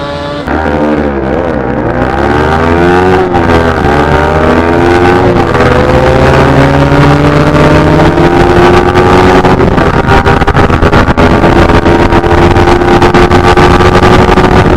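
Yamaha R15 V3 and Yamaha RX135 motorcycles drag racing, loud continuous engine roar with rising revs and shifting pitch as both bikes accelerate hard, close and steady throughout with no talking.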